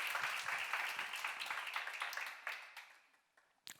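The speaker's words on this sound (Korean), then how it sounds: "박수로 하세요." Applause from a church congregation at a sermon, a broad wash of clapping that fades out toward the end, with no voices over it.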